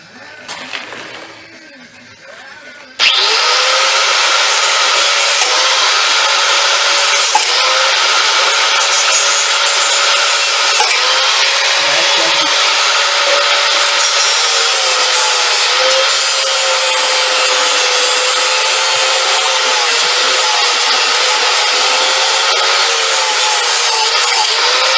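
A thin cutoff wheel grinds through metal during cradle and k-frame removal on a 2001-2004 Ford Escape, a loud, steady high-pitched whine that starts abruptly after a few quiet seconds and holds continuously with slight wavering pitch.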